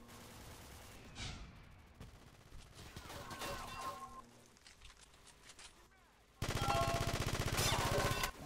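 Video game gunfire: scattered shots and rattling bursts, then a loud sustained automatic volley near the end, with a voice speaking over the game sounds.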